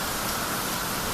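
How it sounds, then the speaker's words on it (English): Outdoors, rain falls steadily as a loud, even wash of hiss that lasts the whole brief moment. "And it's raining out here"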